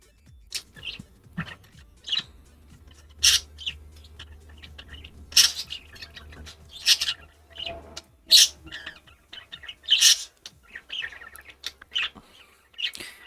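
Pet birds chirping indoors, a run of short bright tweets and calls repeating irregularly throughout, fairly close and clear over a faint low room hum, with no talking.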